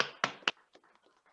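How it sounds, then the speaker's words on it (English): Brief bursts of applause for a country during a results announcement for preliminary rounds, two sharp clap bursts followed by scattered softer claps fading out. "Big clap for Iceland."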